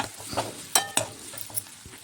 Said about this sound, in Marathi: यात कांदा टाकून घेणार आहोत आणि त्यासोबत लसूण अद्रकची पेस्ट आणि त्यासोबत हिंग आणि हळद तिखट आणि धडे धनेपूड टाकून आपण आता हे चांगलं परतून घेणार आहोत